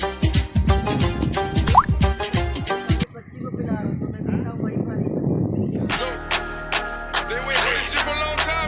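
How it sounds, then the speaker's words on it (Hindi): Water is poured into a bowl set out for birds: irregular splashes and plops run close by for a few seconds, with other loud sharp clattering sounds before and after. "डालते हैं पानी हम।"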